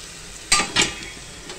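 Whole spices and ginger-garlic-coriander paste, with cinnamon and black peppercorns, sautéed in a pan for mutton curry. Two short bursts of sizzling and stirring rise from a quiet background, then fade.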